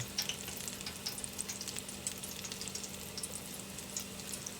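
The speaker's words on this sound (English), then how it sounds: "we'll cook those roughly 3 or 4 minutes until they're a nice golden brown" Onion rings bubbling in a deep fryer, a continuous faint crackling hiss with scattered small pops, steady and close with no talk.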